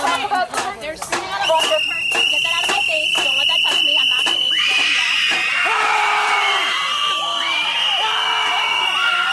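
Protest crowd yelling and screaming at close range, a dense wall of shrill, sustained shrieks and shouts that swell after a few sharp bursts at the start, with voices overlapping throughout.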